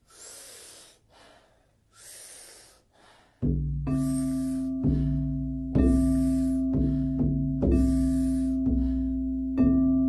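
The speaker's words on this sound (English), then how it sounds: "Powerful inhale, soft exhale." Several strong, breathy yoga inhales and softer exhales repeat in a steady rhythm, close and loud, over a low sustained musical drone that enters partway through.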